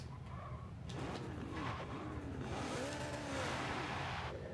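A V12 Lotus in Forza 7 revs hard through wheel spin, its engine note rising and falling in sweeping pitch bends, fairly faint, with tire noise underneath.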